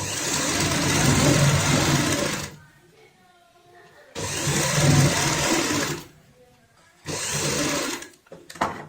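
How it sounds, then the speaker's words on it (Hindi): Sewing machine stitching a homemade doormat with a half-inch margin, three loud, steady whirring runs of a few seconds each, separated by short quieter pauses. "आधा इंच का मार्जिन रखेंगे और सिलाई से स्टिच करेंगे"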